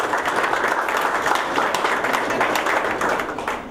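Applause for a member of the AS Valence club fills the room, a steady, close, even patter of many hands clapping without a break.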